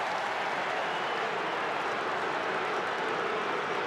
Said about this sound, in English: Oh, the crowd are filthy about this.